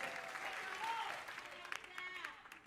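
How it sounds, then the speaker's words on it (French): An audience at a Congolese gospel music competition semi-final applauds the dancers, a fairly soft, diffuse clapping that rises and then thins out, with some background sound mixed in. "est-ce qu'on peut applaudir pour nos danseurs"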